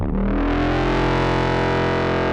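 One long, loud, distorted foghorn-like blast that holds steady for a couple of seconds, deep and buzzy, with no talking.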